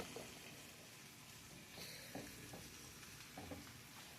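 Squash and onions with Creole seasoning cook down in a pan, a faint, steady sizzle with a few soft stirring clicks, heard up close and alone.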